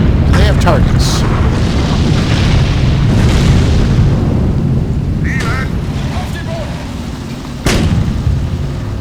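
Tank artillery fire from the WWII strategy game Sudden Strike 3: a loud, dense wall of booming cannon blasts and rattling gunfire that rolls on without pause, with a sharp burst of explosions near the end.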